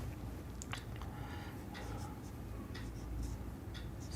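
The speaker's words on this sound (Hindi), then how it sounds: "तो मैं लिखता हूँ शांत के नियम।" Writing on a board during a math class makes faint, scratchy strokes in short repeated bursts over a steady background hiss.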